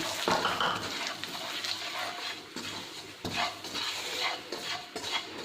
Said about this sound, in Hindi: घी मेल्ट हो गया, अब इसमें सूजी डाल देते हैं।